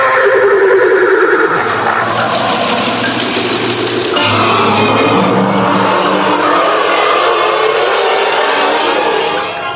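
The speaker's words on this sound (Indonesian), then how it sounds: "kuda api itu melonjak dan terbang melesat" A radio-drama horse effect for a fire horse leaping and flying off, a loud whinny blended into a continuous roaring whoosh that sustains for several seconds, with no talking.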